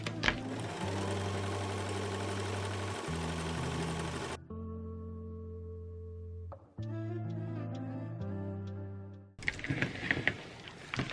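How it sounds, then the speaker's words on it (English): An overlocker serges the edge of a fabric ruffle, running loud and steady with a humming whir. It stops briefly and restarts, eases off, then ends in a burst of louder clatter. "So I'm going to overlock the edge here."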